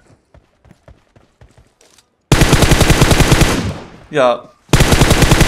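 Gunfire in the shooter game PUBG Mobile: a few sparse distant shots, then loud sustained automatic bursts that cut off, a brief whooshing game effect, and another heavy burst, with a voice briefly speaking.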